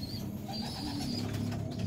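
Domestic racing pigeon kept in a loft, cooing softly in short, low, throaty rolls over faint background noise.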